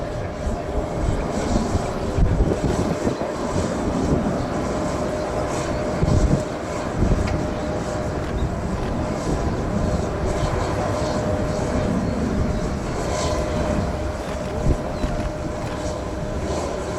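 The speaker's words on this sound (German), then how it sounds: "The Transall just lining up the runway. Very shortly will make a steep approach to land in the shortest possible distance." A Transall military transport aircraft lines up with the runway for a steep landing approach at a special forces demonstration, its engine drone steady and fairly loud throughout with faint crowd or background noise.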